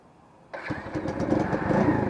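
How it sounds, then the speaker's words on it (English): An XPro 125 cafe motorcycle, a Chinese-made 125 cc bike, fires up after a short silence with a single crisp start, then settles into a steady, close, slightly rising mid-pitched idle with no talking. "This is not the first time I've started the bike today, but it started just at a touch like it always does."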